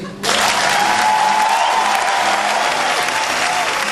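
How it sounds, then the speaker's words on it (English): After a brief quiet moment, an audience at a live radio show breaks all at once into a big round of applause that holds loud and steady, with a faint sustained tone running underneath. "give Francis the maxi clap"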